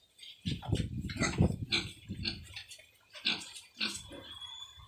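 Piglets grunting and squealing nearby in short overlapping bursts, an irregular cluster of snorts and oinks that rises and falls, with no speech.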